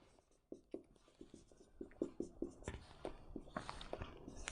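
A pen scratches out a maths solution on paper in a class revision lesson, a close, quiet series of short irregular writing strokes.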